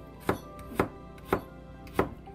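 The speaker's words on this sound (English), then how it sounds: "Okay, now we just slice it." A knife slices through vegetables for a homestyle chicken, potato, celery and carrot stew, striking the cutting board four times in an even, unhurried rhythm, each cut a sharp close thunk with no talking.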